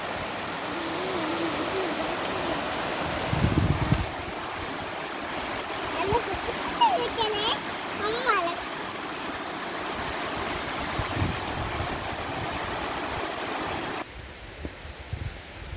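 A river flows over rocks, a steady broadband rush of water mixed with wind buffeting the microphone, with brief louder splashes and a person's voice briefly over it.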